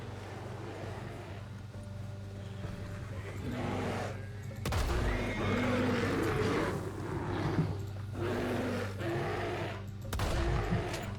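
Gunfire in Red Dead Redemption 2 during a bear encounter on a hunt: a sudden sharp shot, then further bursts and sustained rumbling action over a low ambient drone.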